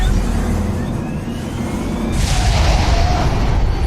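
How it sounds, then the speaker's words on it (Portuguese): The Metal Gear Ray's cannon fires in Metal Gear Solid: The Twin Snakes, a loud, sudden blast that breaks in over a low rumbling engine drone and keeps roaring to the end. "Olha aí o canhão de raios."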